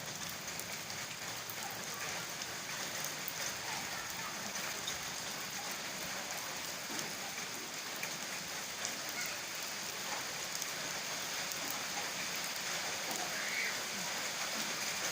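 Steady, dense patter of rain falling on surfaces, continuous and even throughout with no voices.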